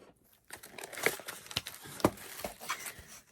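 A cardboard box is roughly torn and mangled open, close by, with irregular crinkling, scraping and ripping bursts and a few sharper snaps, no talking.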